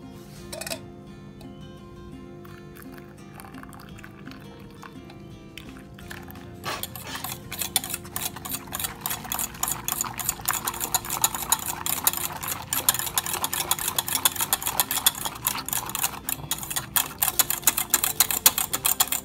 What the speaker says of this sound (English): Now I'm going to add the milk little by little. So, and keep stirring it fast so that the egg does not cook.